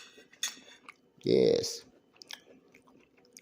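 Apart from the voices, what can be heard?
chewing a bite of Romanian tenderloin with pasta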